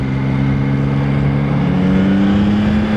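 A Yamaha motorcycle engine hums loudly and steadily, its pitch rising slightly as it revs during a ride, with no voices.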